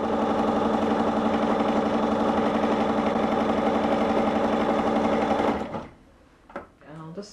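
A sewing machine stitches a quarter-inch seam in a steady, loud mechanical whir that lasts about five seconds and then stops abruptly, leaving a few faint handling sounds.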